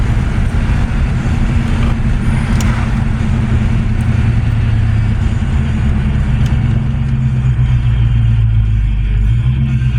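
A 1982 Ford LTD drives along with its engine rumbling loud and close, the low drone shifting in pitch as the transmission downshifts, steady and uninterrupted throughout.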